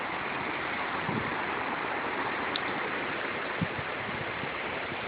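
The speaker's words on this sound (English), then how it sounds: "Oh, it started to rain." Rain and rushing floodwater during flash flooding in a residential neighborhood in Grandview, a dense, steady hiss with no talking.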